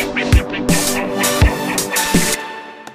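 Synth tones that cut off and are followed by swelling, sucking reverb tails rising back in, repeating in short pulses over about three seconds.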